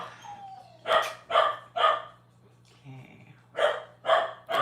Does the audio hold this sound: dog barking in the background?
yes